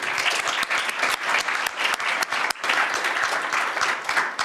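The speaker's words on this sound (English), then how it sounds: "we can give an applaud also for all these" A crowd at an energy conference applauds steadily, many hands clapping in a dense, continuous patter.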